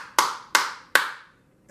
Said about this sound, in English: And then we clap four times.